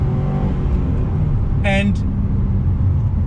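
A 2020 Honda Civic Type R engine pulls steadily under acceleration, a continuous loud drone from start to finish, with a single brief spoken word partway through.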